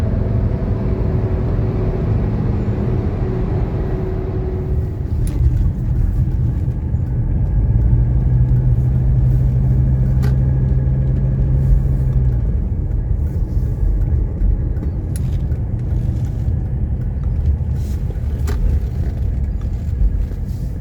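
Steady loud engine and road rumble from inside a moving 1985 300D with 18,000 miles, a low continuous drone with occasional faint clicks.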